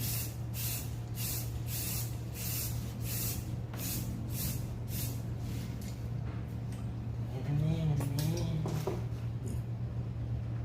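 A spray gun sprays paint in rhythmic hissing bursts, close and repeated at roughly half-second intervals, with a steady compressor hum underneath and a person speaking briefly toward the end.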